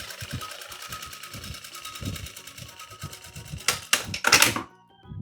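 A domestic sewing machine stitches fabric trim for a children's car organizer, giving a fast, even mechanical chatter of needle strokes with low thumps, followed by a few louder bursts of handling and rustling near the end.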